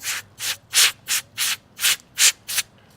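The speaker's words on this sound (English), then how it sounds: "You can use an air compressor, or you can just use a can of compressed air" Compressed air blasted into a crack in a stucco gate post to clear loose crumbs: eight short, sharp hissing puffs in a steady rhythm, close and loud, with no talk.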